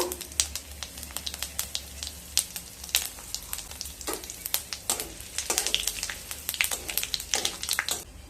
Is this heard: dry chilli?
yes